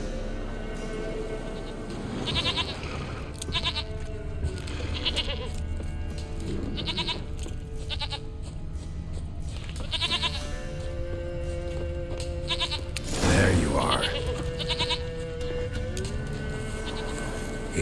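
A goat bleats repeatedly in The Witcher 3 game world over steady game ambience and music. A voice speaks briefly partway through.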